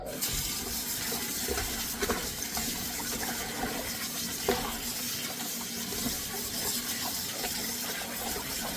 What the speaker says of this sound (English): I'm gonna wash it again.